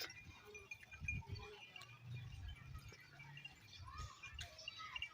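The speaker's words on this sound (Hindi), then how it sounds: "बकरियां भेड़ें आ चुकी हैं, अब इनका भी मौसम है" Goats and sheep in a village by a roadside, with faint scattered bleats and low rustling at a moderate distance, mixed with light background noise and no clear talk.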